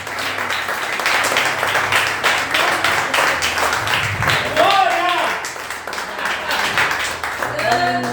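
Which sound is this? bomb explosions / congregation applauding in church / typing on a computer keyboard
congregation applauding in church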